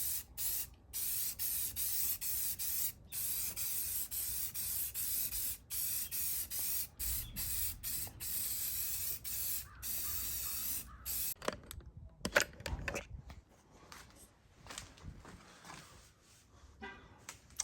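Spray gun laying another coat of paint on a Toyota Corolla part: a steady, loud hissing spray in long bursts separated by short pauses, turning into scattered clatter and handling noise near the end.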